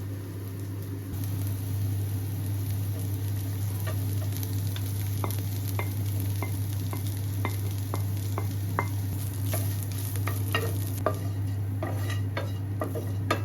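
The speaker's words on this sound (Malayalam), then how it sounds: "ഈ മത്തി അതിലേക്ക് ഇട്ടിട്ട് നല്ലോണം മിക്സ് ചെയ്യാം." Sardines being mixed in a hot pan, a steady sizzle under a constant low hum with repeated light scraping and tapping of a spoon against the metal, close and continuous with no talking.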